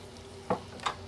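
Minced garlic and black pepper are stirred into a seasoning mix for a smoked venison roast, giving a soft background hiss with two short scraping stirs up close.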